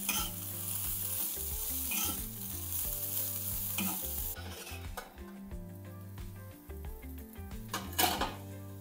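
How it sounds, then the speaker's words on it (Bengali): Cumin paste and ginger-garlic paste fry in a pan over a low gas flame, alongside cauliflower, with a steady sizzle under repeated scraping and clinking strokes of a spatula against the metal pan. "এই যে জিরে গোলকি পেস্ট আর আদা রসুন পেস্ট দিয়ে দিলাম। এবার নাড়িয়ে চাড়িয়ে নেব।"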